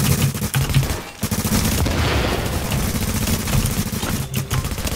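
Rapid gunfire from a multiplayer video game shooter match, one player against five, crackling in dense, continuous bursts for the full stretch with only a brief lull near the start, loud and close.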